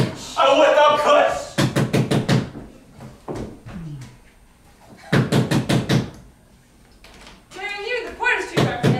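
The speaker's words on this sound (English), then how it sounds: "Wait, Duncan, with thy knocking" Sharp knocks on a door during a youth stage performance of Macbeth, struck in several quick bursts of three to five raps, mixed with actors' spoken lines between them.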